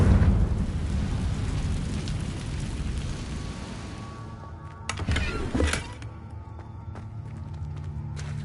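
The Confringo blasting spell explodes in Hogwarts Legacy. One short, heavy burst of noise rises out of a steady rumbling background about midway, then falls away.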